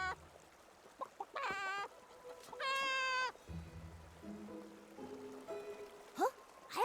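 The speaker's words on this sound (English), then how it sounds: "Let me jump up and see if this giant Barasant clucks!" A giant Barasant creature in the video game Infinity Nikki gives several clucking calls, some stretched into wavering squawks and some short chirps, heard clearly and alone over quiet game ambience.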